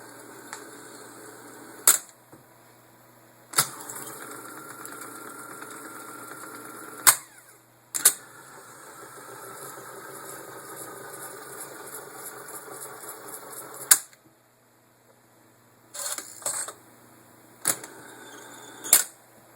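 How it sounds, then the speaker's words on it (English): Akai M5 reel-to-reel tape recorder running at 15 inches per second, a steady quiet mechanical whir punctuated by several sharp, loud clicks and clacks at irregular intervals, with a brief near-silent gap. "If you change the tape speed, now we're at 15 inches per second."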